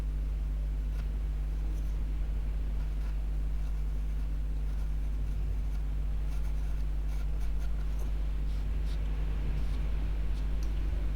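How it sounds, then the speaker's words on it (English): A pastel pencil scratches steadily across paper, working the edges of a face in an owl drawing; the soft, continuous strokes sit faintly beneath a constant low electrical hum. "I was just using a little bit of pastel pencil to try and work the edges of the face a little bit"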